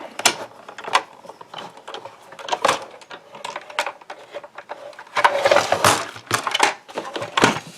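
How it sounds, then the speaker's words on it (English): Die cut machine cranking paper through for letterpress card making, producing repeated ratcheting clicks and gear rattles in uneven bursts, with a busier cluster of clacks toward the end, close and without talk. "you just put it through your die cut machine"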